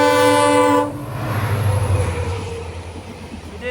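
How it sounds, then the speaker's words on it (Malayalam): Tutari Express on the Konkan Railway, Dadar to Sawantwadi Road, sounds a sustained loud horn blast, then its wagons rumble and rattle past close by. "ഇത് തുത്താരി എക്സ്പ്രസ് ആണ്."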